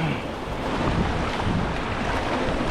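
Ocean waves on a coast during a fishing trip, a continuous loud wash of surf with wind noise buffeting the microphone, no voices.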